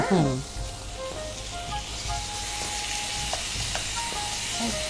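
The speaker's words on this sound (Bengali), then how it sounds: "এবার আমি ম্যারিনেটেড মাটনটা দিয়ে দিচ্ছ।" Marinated mutton lands in hot oil with fried onions and bursts into a loud sizzle that settles into a steady crackling fry. Metal clinks and stirring come through close by.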